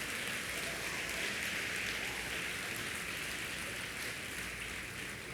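A church congregation applauding during a Sunday sermon, dense, even clapping that holds at a constant level throughout, rain-like and unbroken.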